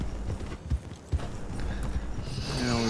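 Horse hooves clip-clop in the video game Red Dead Online, a quick irregular run of hoofbeats at moderate volume, ending in a brief whinny-like tone, with no talking.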